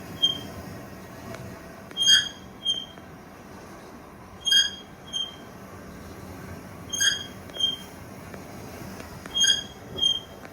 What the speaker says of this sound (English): the motor in here tends to be very sensitive. It will stop working at random times and also will start squeaking at random times